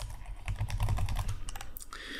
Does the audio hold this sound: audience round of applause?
no